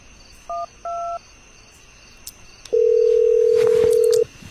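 A telephone dialed to call the police: a few short keypad tones in quick succession, then a long steady ringing or dial tone, loud and alone over faint background hiss.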